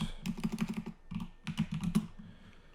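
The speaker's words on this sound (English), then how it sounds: "Typing in the wrong letters." Fingers type on a computer keyboard at close range, quick bursts of distinct clicking keystrokes separated by a short pause, with no talking.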